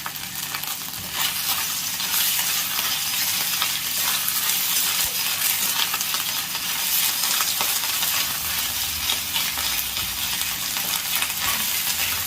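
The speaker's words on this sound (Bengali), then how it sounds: "আদা বাটা দেওয়ার পরে তেলটা খুব ছেটায়" Ginger paste fries in hot oil with coconut, giving a loud, steady sizzle and spatter throughout, with scattered stirring scrapes and no talking.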